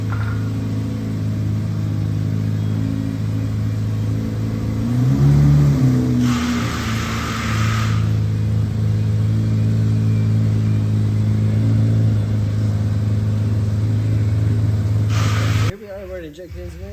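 A Chevrolet Corvette C8 Z06 strapped to a dyno runs with a steady engine drone and whir, swelling briefly in a short rev before holding steady, with a person talking over it.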